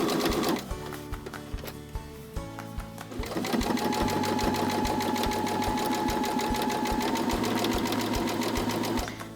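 A sewing machine runs steadily while stitching the folded layers of a tote bag, first a few short start-and-stop bursts for the forward and back stitching, then one long continuous whir close by.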